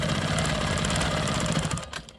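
Sewing machine stitching a quilting line across a rolling stone quilt block, a fast steady mechanical whir with rapid needle pulses, close and alone, slowing and stopping near the end.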